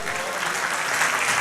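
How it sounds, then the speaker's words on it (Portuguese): Church congregation applauding during an evening worship seminar, a dense, steady wash of clapping filling the room without pause. "Você pode aplaudir a Ele nesta noite e glorificar Jesus?"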